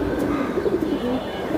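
A baby pigeon and nearby birds give low, murmuring coos, soft and continuous at close range.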